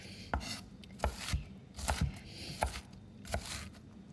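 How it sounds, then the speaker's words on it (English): A knife chops an onion on a board, about nine quiet, evenly spaced thuds with no talking. "Got the onion all chopped up, so it's going in."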